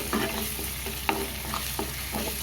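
Ginger garlic paste and salt are mixed in a pan for a fish curry, giving a few soft scraping stirs over a constant low frying hiss, nearby and moderately loud.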